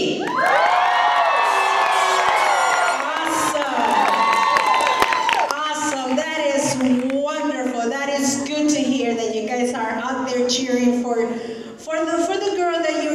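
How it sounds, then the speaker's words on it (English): Pageant audience cheers and whoops loudly on cue after a count of three, a dense sustained crowd roar with shouting voices and some clapping, with a host's amplified voice carrying over it. "let's cheer as much as you can"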